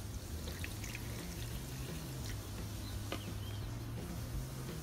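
Water poured into a stand mixer bowl holding eggs, margarine and bread dough for homemade bread, a steady close trickle over a low continuous motor-like hum, no talking.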